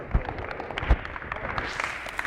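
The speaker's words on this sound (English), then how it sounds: "Give these guys a round of applause." A small group applauds basketball players in a gym after an offense drill, a brief scattered patter of clapping with a couple of louder claps, fairly close and short-lived.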